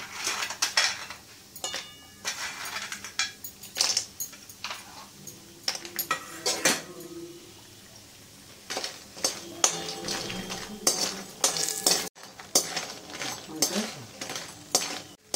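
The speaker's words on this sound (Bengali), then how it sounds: "বড়িগুলো ভেজে নেব।" Lentil dumplings (bori) frying in hot oil in a wok, with repeated metallic clinks and scrapes of a spatula against the pan and a soft sizzle underneath, fairly close and without talk.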